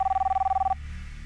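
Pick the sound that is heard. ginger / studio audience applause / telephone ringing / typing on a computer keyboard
telephone ringing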